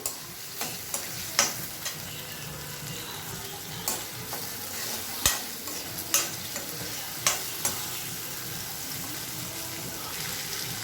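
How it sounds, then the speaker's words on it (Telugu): Green chillies lightly frying in a pan for a mango chutney, a low steady sizzle broken by a dozen sharp spoon taps and scrapes against the pan, close up and with no talk. "ఇవి కూడా లైట్గా వేపితే చాలండి. కొంచెం సేపు ఒక 2-3 నిమిషాలు వేపితే సరిపోతుంది."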